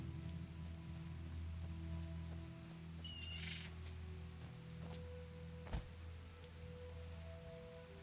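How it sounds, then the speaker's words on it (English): Rain falling, a faint steady patter under a constant low hum, with a brief chirp-like call and a single sharp tick partway through. "It's a shame it's raining"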